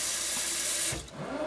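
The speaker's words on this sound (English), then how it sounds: "And you just put some water in there." Water gushes from a tap onto dehydrated chicken for an enchilada casserole, a loud close rushing stream that briefly breaks off and then resumes.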